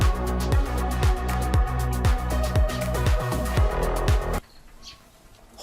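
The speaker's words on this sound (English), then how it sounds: "Holy crap, there's a big bee!" Loud, close buzzing of a large bee pulsing in quick regular bursts, then cutting off abruptly into near silence.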